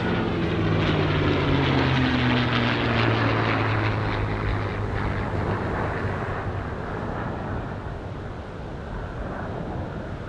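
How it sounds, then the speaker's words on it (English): Propeller drone of a P-51 Mustang flying past with an F-35 jet at the Newcastle Williamtown airshow, a loud roar with a falling engine tone as the aircraft sweep by, fading slowly into a broad distant rumble. "This is the Mustang and the F-35."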